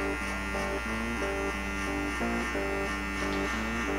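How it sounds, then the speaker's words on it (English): Electric hair clippers run without a guard and with the lever open while setting a guideline on blonde hair for a bald fade, a steady close buzz with small pitch dips as the blades bite. "we're gonna clipper, no guard, lever open, and we're gonna set a guideline in about a 1/2 inch to 1/4 inch up"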